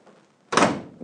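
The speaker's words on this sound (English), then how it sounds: "I'm gonna go ahead and pop this door back off" A door coming off a VW Beetle during heater channel work gives a sudden loud metallic thunk up close, which fades quickly after a quiet start.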